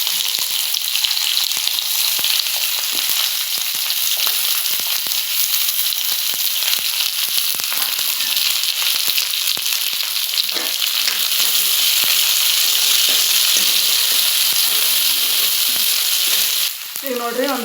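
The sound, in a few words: curry leaves and eggplant frying in a pan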